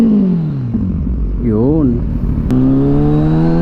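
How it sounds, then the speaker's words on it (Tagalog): Kawasaki Ninja 1000 fitted with a Two Brothers exhaust, idling with a deep steady rumble, then a quick rev sweeping up and back down before settling to a higher, smoother idle; a voice speaks briefly over it. "Rev natin."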